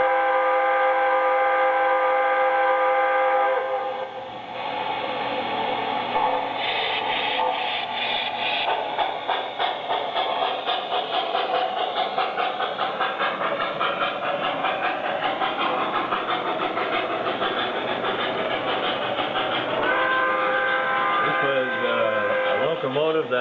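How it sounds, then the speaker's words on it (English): A model Atlantic locomotive runs steadily around a Christmas train layout with a continuous rolling rumble and clatter, while tones and whistle-like sounds ring over it and people talk. "This is an Atlantic locomotive."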